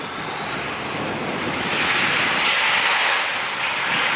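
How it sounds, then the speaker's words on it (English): Embraer E175 regional jet landing with a short burst of reverse thrust, a loud broad engine roar that swells and holds steady over several seconds without speech. "Let's get this little E175 here. Is he going to use reverse?"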